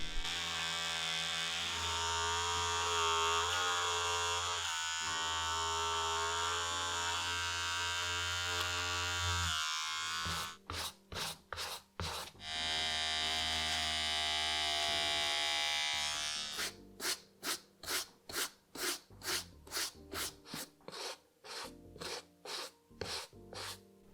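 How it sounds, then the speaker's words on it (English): Electric clippers trim the suede on a Jordan 13 Chicago sneaker during a restoration, giving a steady close buzzing hum, with interrupted stretches of rapid rhythmic rasping bursts as the blades pass over the material. "Then we can take these clippers and trim it down."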